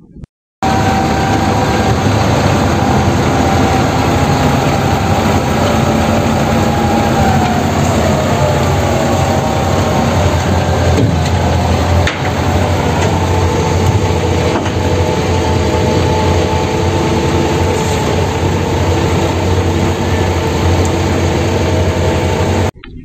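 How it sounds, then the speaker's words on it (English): A mobile crane's engine drones loudly and continuously for over twenty seconds, its tonal hum shifting in pitch midway as the machine works, with no voices present. "Mobile crane."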